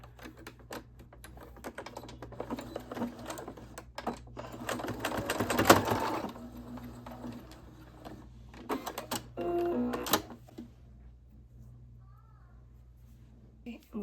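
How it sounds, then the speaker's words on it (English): A sewing machine stitches a fabric makeup bag in quiet bursts of rapid whirring, louder in the middle, with short gaps and some speech at times. "I'm going to stitch on that side"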